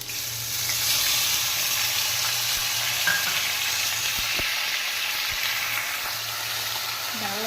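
A wet paste of ginger, garlic, onion, tomato and cumin sizzles after going into a hot pan, a continuous loud frying hiss with a few soft knocks of stirring and a faint low hum beneath.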